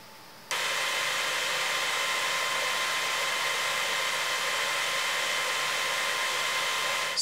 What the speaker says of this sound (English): Honestly, it is the loudest PC I have ever heard in its turbo mode.